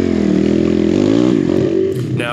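Kawasaki KLX 170 dirt bike engine riding an enduro trail, a loud steady four-stroke drone that climbs in pitch, then drops off as the throttle eases near the end.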